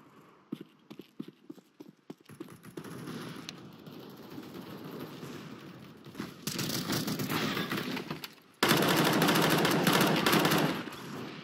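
Rifle gunfire in the Counter-Strike video game: sparse single shots at first, then dense rapid bursts of automatic fire that grow louder and sustained near the end.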